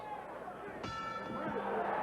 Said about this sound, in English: Immediately after the bell ending round one